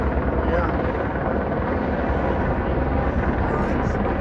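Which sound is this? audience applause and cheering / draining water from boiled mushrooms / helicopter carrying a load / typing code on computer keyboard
helicopter carrying a load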